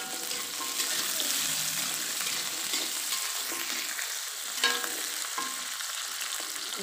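Chillies stir-frying in a hot pan give a steady, dense hiss of sizzling oil that stays level throughout, with faint occasional stirring scrapes and one brief louder knock near the end.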